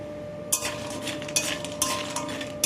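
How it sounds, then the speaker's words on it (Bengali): Homemade lentil bori frying in hot mustard oil in a wok, with a steady close sizzle and several sharper bursts and scrapes as they are stirred. "কয়েকটা বড়িকে আমি লাল লাল করে বেশ ভেজে নেব।"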